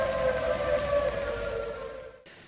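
An emergency vehicle siren holds a loud, steady wailing tone for about two seconds and then cuts off abruptly, with no voices heard.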